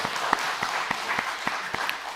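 A church congregation claps for the men's choir after their praise song, scattered distinct hand claps in a loose rhythm rising from a soft crowd wash, heard from a short distance.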